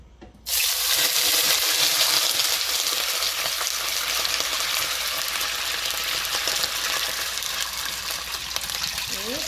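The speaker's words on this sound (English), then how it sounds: "Now as you see that it was really spluttering for me as well." Cold water poured into a hot pan of frying rice for dhansak bursts into a loud, sudden spluttering sizzle that settles into a steady bubbling hiss.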